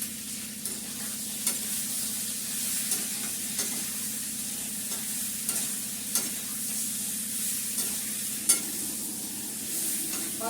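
Spices are stir-fried in oil in a wok, a soft continuous sizzle punctuated by regular scraping stirs, heard close and fairly quiet with no voices.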